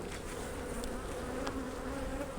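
A dense, steady buzz of many honey bees comes from close range in an opened hive during an inspection, a continuous drone with no speech over it.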